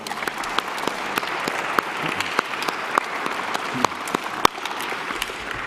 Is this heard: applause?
yes